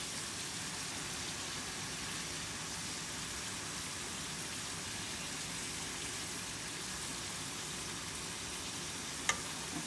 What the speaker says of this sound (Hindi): अब मैं इसमें मसाला डालती हूँ, मैं मसाला डाल देती हूँ।